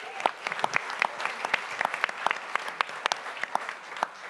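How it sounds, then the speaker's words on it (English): An audience claps for a speaker at an ideas event, a moderately loud wash of applause with distinct sharp individual claps standing out throughout. "Let's give him a round of applause"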